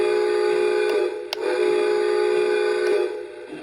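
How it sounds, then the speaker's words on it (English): An O scale Polar Express model train horn sounding twice, a sustained tonal blast with a short break between, loud and close with a few clicks. "Let's test the horn."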